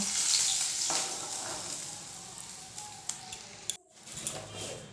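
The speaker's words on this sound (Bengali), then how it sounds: "লো ফ্লেমেই ভাজতে হবে খুব সুন্দর করে" Pieces of king fish frying in oil over a low flame, a soft close sizzle with light utensil clinks, briefly cut off near the end before resuming.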